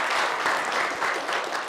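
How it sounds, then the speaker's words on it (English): Applause from an audience at the official launch of a green hydrogen safety and testing research project, a steady, dense clapping that fills the whole moment with no talk over it. "they deserve a round of applause"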